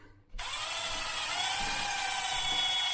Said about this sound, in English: So what you have to do is do a half drill